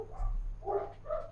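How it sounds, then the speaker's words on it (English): Dogs in the Voices of the Void game bark three times in quick succession, fairly quiet and somewhat distant, with no talking. "Enjoy the sound of all those dogs barking."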